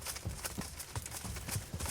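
A horse galloping in the video game Kingdom Come: Deliverance: a quick, steady run of rhythmic hoof thuds with clattering and rustling over a busy background.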